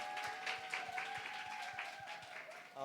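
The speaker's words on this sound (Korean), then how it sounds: "우리 박수로 큰 박수로 환영하도록 하겠습니다" Congregation applause welcoming the youth community at a Korean church service, faint and steady, continuous clapping at a distance for a few seconds with no talk over it.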